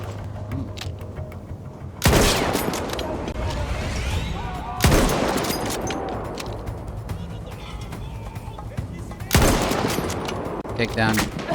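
Machine gun fire in a war setting: three heavy, close bursts of rapid automatic shots break out, each followed by a ringing, reverberant tail and scattered distant gunfire in between.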